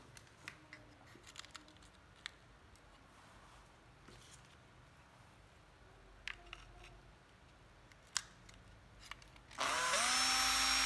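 A Hitachi 12V cordless drill starts up near the end and runs steadily and loud, after a stretch of quiet handling clicks and small taps.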